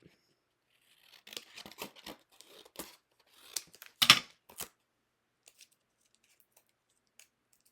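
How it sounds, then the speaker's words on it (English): A piece of craft material is cut at the bottom with scissors in a quiet room, giving a run of short crisp snips and crinkles, the loudest near the middle, then a few faint ticks as it falls silent. "Let me cut the bottom off here a little bit."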